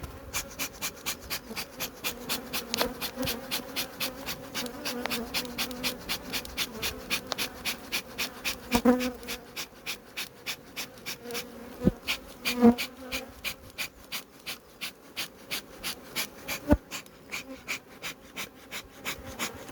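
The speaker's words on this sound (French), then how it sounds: "Donc là on est sur un essaim 2022, un essaim fait avec un rémérage naturel." Honeybee colony from a 2022 swarm with a naturally raised queen, buzzing steadily during a spring hive inspection, a dense close hum with individual bees flying past and a few light knocks, with no talk.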